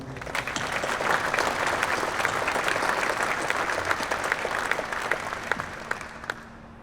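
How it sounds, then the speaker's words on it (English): An audience at a military retirement ceremony breaks into steady, full applause, many hands clapping together at close range and continuing evenly for several seconds before tapering slightly. "Round of applause"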